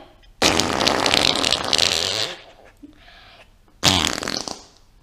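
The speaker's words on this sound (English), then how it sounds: "Birthday fart's done." A deliberate fart made for a birthday at home, a long loud broadband blast lasting about two seconds, then a short pause and a second shorter burst, close to the recorder.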